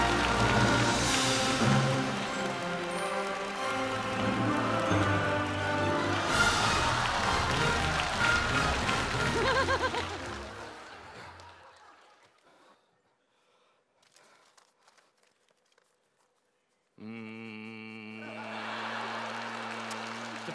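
A theatre audience at a comedy sketch bursts into loud sustained applause for about ten seconds, fades to near silence, then music starts.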